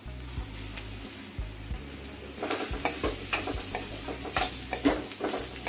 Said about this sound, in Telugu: పప్పు కొంచెం గోలించుకోవాలి.